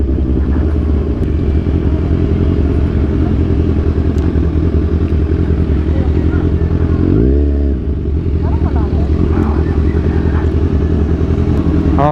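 A motorcycle rumbles steadily up close on a ride toward a stone church, its engine drone constant throughout, with a brief clattering shift partway through.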